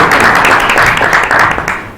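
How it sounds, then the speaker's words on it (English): An audience claps after a startup pitch at the FastPitch competition, a loud, dense burst of many hands that holds steady and then begins to thin toward the end. "All right, how about a round of applause?"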